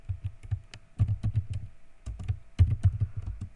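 Rapid keystrokes on a computer keyboard patter close and clear in uneven runs, with a few brief pauses between bursts, while a document with a table is edited.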